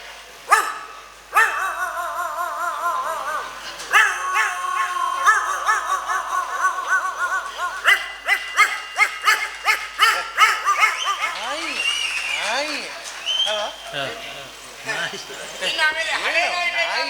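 A male performer in a Yakshagana comedy show imitates a dog with his voice, producing a rapid run of loud barks, yips and whimpers delivered close up in quick bursts.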